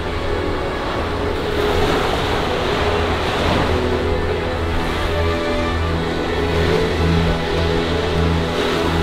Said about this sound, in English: you got the beach behind me